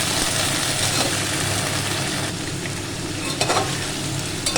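Pointed gourd (potol) frying in a pan, a loud continuous close sizzle with a faint low hum beneath and a few light utensil scrapes near the end, no voices.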